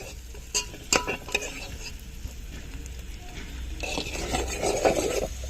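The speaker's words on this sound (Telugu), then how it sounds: "ఆనియన్స్ కొద్దిగా మగ్గిన తర్వాత పసుపు వేసుకొని కలుపుకుంటున్నానండి" Onions frying with turmeric in a pot over a village wood-fired stove, a spoon scraping and stirring through a continuous sizzle, several distinct scrapes early and a louder rustling stir near the end, no talk.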